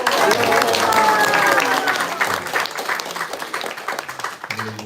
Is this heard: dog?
no